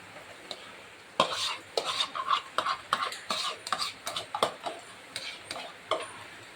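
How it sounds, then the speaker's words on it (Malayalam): Ripe mango, cooked for Kerala mambazha pulisherry, stirred with ground coconut paste in a pan: a run of irregular, close scraping and clacking strokes from a spoon against the pan, loud and uneven, with no voices. "நம்ம அரைச்ச தேங்காய் பேஸ்ட்டை வந்து இதில் ஆட் பண்ணிவிட்டு நல்லா மிக்ஸ் பண்ணிக்கலாம்"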